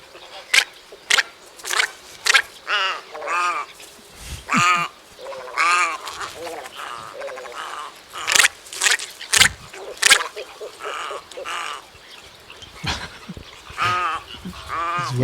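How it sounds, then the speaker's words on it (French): Little egret calling beside the Loire river, a heron-family bird giving harsh, rasping croaks in a rapid, irregular series of short bursts, fairly close and loud. "C'est un oiseau emblématique de bord de Loire, celui-ci. Famille du héron. L'aigrette alors. Oui, voilà. Une petite aigrette"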